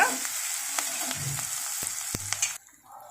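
Crushed garlic being stirred into small bitter gourds frying in a pan, a close steady sizzle with a few sharp spoon scrapes and clinks, then the frying drops away abruptly near the end.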